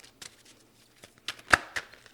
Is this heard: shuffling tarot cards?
yes